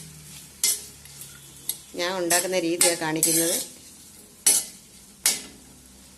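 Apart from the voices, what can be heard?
onions and green chillies frying and being stirred in a pan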